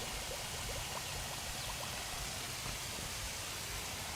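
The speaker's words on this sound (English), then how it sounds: "we're just going to keep on spraying down and pumping out until that water starts to run clear" A Drummond submersible utility pump from Harbor Freight pushes dirty backyard pond water out through a line, giving a steady, dense rushing and splashing like a continuous stream, with no voices.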